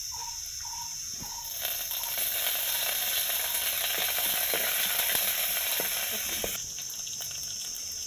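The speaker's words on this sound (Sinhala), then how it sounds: "දැන් තෙල් ටික රත් වෙලා තියෙන්නේ. මම ඒකට එකතු කරගන්නවා සුදු ලුණු ටික. ඒ වගේම කරපුංචි ටිකක් එකතු කරගන්නවා." Garlic and curry leaves drop into hot oil in a pan and burst into a loud, close, steady sizzle and crackle that holds for several seconds before easing off.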